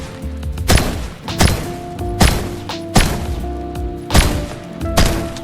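Gunfire in Fortnite, a shotgun firing six heavy booming shots at roughly even intervals, each with a short ringing tail, loud and close with no talking.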